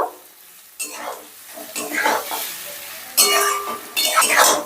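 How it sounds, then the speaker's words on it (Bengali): Fried eggs being stirred into masala in a pan with a spatula, close scraping and clinking bursts over a soft sizzle, in uneven strokes. "এবার ডিমটাকেও মশলার সাথে বেশ ভালো করে মিশিয়ে নেব"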